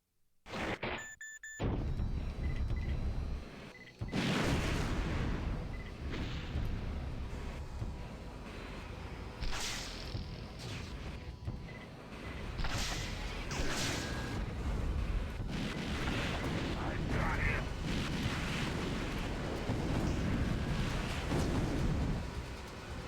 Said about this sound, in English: the optimal way to use that rocket launcher is always to be at a range just as the rockets split